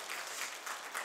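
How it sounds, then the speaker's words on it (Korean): A church congregation claps to welcome a visiting missionary, a short burst of soft, fairly distant applause filling the room evenly. "우리 박수로 환영하겠습니다."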